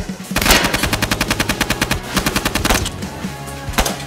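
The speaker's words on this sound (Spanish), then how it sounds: "crear efectos de disparo tan realistas como estos" Rapid bursts of automatic gunfire sound effects, sharp evenly spaced shots in quick succession, loud and close, with a brief pause between volleys.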